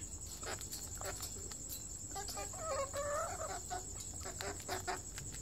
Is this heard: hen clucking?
yes